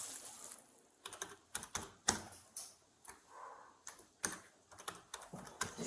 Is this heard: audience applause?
no